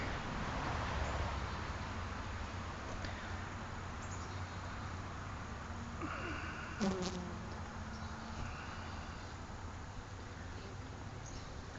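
Bees buzz steadily at close range in front of a small wooden hive, with goldenrod in bloom nearby; a dense, continuous insect hum runs throughout, joined by a brief louder buzz of a single bee passing near.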